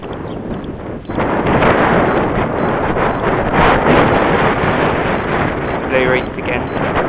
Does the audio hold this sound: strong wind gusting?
yes